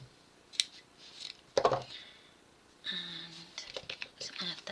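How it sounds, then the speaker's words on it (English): Scissors snip through paper while album tags are being made, with a few separate crisp cuts and rustles spaced apart, close and fairly quiet, and soft whispering voices in between. "Scissors."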